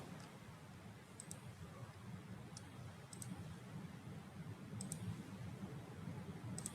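Quiet, sharp computer mouse clicks sound in small pairs and singles, spaced a second or two apart, during work in ECAD circuit design software on a PC, over a low background hum.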